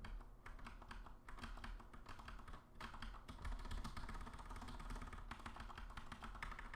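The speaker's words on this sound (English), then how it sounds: "Here are my machine gun keystrokes." Rapid, dense computer keyboard keystrokes rattle almost continuously at close range, with a faint steady room hum underneath and no voices.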